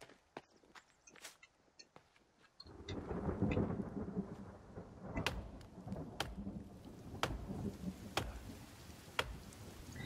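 A low rumble of thunder rolls in and lingers under steady rain in the video game The Forest, with sharp clicks and footstep-like taps scattered throughout.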